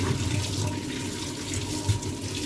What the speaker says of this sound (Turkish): Güzelce balıklarımı yıkıyorum.